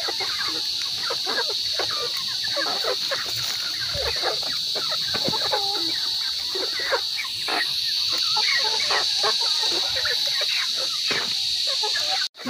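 Chickens cluck and squawk steadily in a farmyard before feeding, a dense, continuous chorus of overlapping calls close by, with a constant high insect-like drone behind them and the sound cutting off abruptly at the end.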